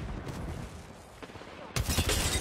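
Gunfire in the video game Apex Legends, a few muffled shots followed by a sudden loud, dense burst of rapid automatic fire close up.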